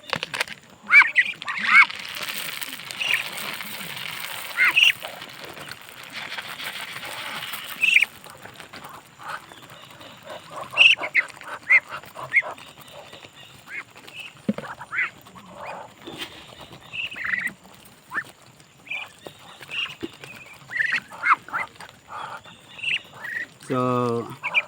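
Ducks quacking in short, irregular bursts, fairly close, with rustling and shuffling between calls and a person speaking at times.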